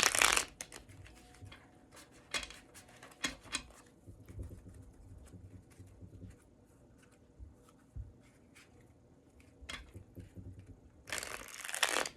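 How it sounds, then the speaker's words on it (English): Tarot cards being shuffled and drawn at close range, with bursts of riffling at the start and end and scattered soft flicks, taps and slides of cards between them, no talk. "I'll pull these tarot cards now."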